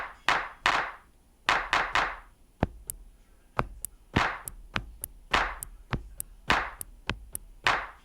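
Clap sample from a Tempest drum machine, sounding as a sharp sequenced pattern of dry, snappy hits with a short decay, repeating in a steady beat alongside crisp, ticking high percussion, heard alone with no talk.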